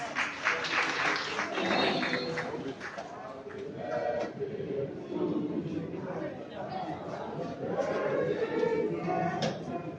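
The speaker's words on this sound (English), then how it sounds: "Round of applause for him" Sustained applause and clapping from a large crowd fill the room, mixed with murmured chatter throughout.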